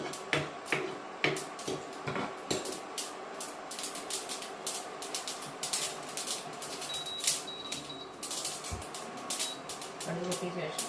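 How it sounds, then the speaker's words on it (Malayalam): Mustard seeds crackle in hot coconut oil, a dense run of sharp, irregular pops and snaps that keeps up steadily throughout at close range. "കടുകിടുക, കടുക് പൊട്ടിക്കണം"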